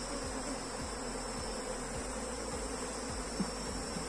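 A honeybee swarm hums steadily at a hive during an inspection, a dense continuous buzz with individual bees droning past close by, no voices over it.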